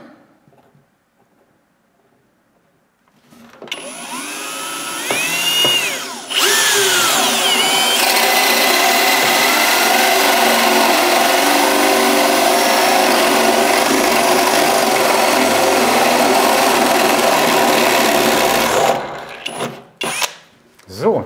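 A power drill with a hole saw bores holes in drywall for bathroom niche LED lights, a loud continuous whine running about fifteen seconds after a brief start-up, close by with no talk over it.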